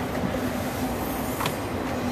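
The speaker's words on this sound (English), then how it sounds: "Sorry about the train." A train rolls past nearby with a steady, continuous rumble and a faint metallic wheel squeal, heard outdoors alongside a 2003 Hyundai Tiburon GT V6 parked on a car lot.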